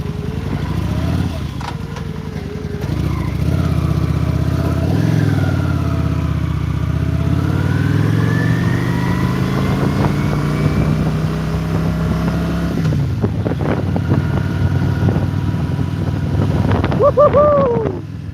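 A Vulcan motorcycle engine runs loudly and steadily up close, its revs rising and falling in a continuous drone, with shouting and cheering near the end.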